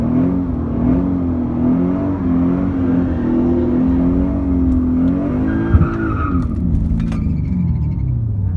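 A Dodge Challenger Hellcat roars loud and close at a drag strip, its deep engine drone holding steady and then shifting pitch, with a brief tire chirp and rattle near the end.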